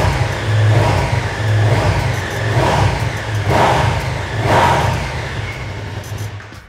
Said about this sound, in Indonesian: Jadi walaupun knalpotnya masih standar, ternyata cukup kenceng ya.